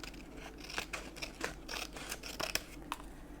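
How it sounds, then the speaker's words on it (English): Scissors snip close and crisply through paper being trimmed for a handmade ring-bound journal, a quick irregular run of short cuts with light paper rustle between them. "I will trim it off along the bottom"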